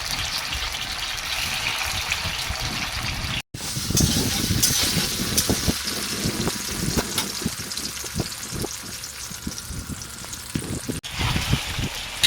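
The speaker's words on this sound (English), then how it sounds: "First we need to fry the tofu." Tofu sizzles in a hot pan while being stirred, a steady frying hiss with scraping and clinking of the utensil, close and moderately quiet, no talk.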